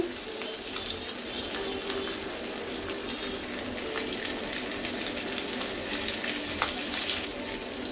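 Chicken leg pieces frying in a pan make a continuous moderate sizzle and watery hiss, with faint crackles and pops and no voices.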